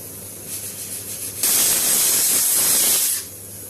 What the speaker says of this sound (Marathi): आता 1 मोठी शिट्टी झाली, आपण गॅस बारीक करूया आणि 1 छोटी शिट्टी करूया।